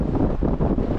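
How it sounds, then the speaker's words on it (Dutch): Strong wind buffets the microphone at Owakudani in Hakone, Japan, a brief, constant roar of rushing air with no speech. "Ook hier waait het heel hard."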